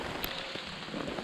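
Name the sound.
rain falling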